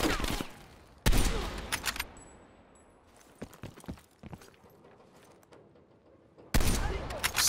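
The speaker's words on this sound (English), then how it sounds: "We just gotta figure out where they're shooting from." Enemy gunfire in the Call of Duty: Cold War campaign, with loud bursts of automatic fire opening and closing the stretch and scattered sharp single shots in the quieter middle.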